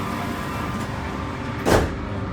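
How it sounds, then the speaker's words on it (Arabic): Doors on a Doha Metro Red Line train slide shut with a short whooshing thud over the low hum of the train, close and brief. "Doors closing. Stand clear."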